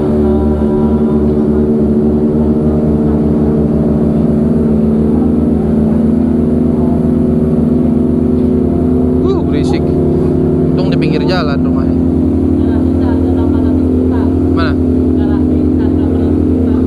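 A Kawasaki sport motorcycle engine idles and revs loudly up close during warm-up, a low throbbing drone that swells as the throttle opens, with brief voices underneath.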